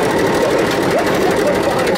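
A sewing machine stitches a front-seat upholstery kit, giving a steady, close, loud mechanical whir that runs unbroken with no talk.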